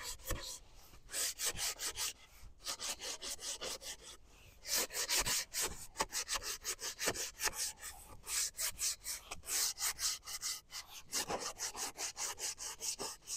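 Rhythmic rasping strokes of sanding on the limbs of a black locust recurve bow, close and continuous, in quick back-and-forth bursts with brief pauses between runs.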